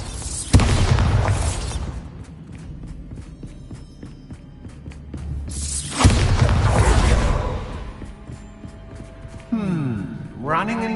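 The Bombarda blasting spell goes off in the video game Hogwarts Legacy, with heavy booming explosions at the start and middle over running footsteps, whooshes and game ambience, and a voice speaking near the end.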